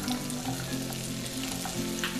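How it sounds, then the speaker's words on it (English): Potatoes sizzle and crackle steadily in hot butter and oil, a dense, close frying hiss with no talking. "that's what we want to hear, is that sizzling"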